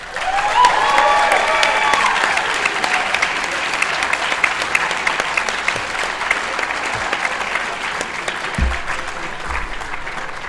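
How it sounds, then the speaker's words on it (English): At the CEDA 2014 debate awards ceremony, the crowd breaks into sustained, loud applause for all the speakers, a dense roar of clapping with scattered whoops that holds steady for ten seconds. "One more round of applause for all speakers at CEDA."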